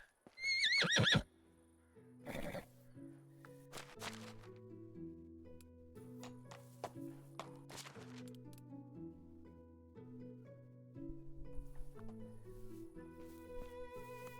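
A mare whinnies sharply at the start over gentle melodic music in the game Medieval Dynasty, with a few hoof-like thumps as the tune continues.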